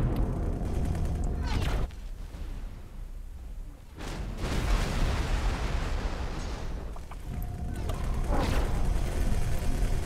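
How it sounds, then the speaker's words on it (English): Heavy explosions boom and rumble in the space game X4: Foundations, with several loud broadband bursts separated by quieter mechanical creaks and low rumbling, and some voice in the background. "Explosion"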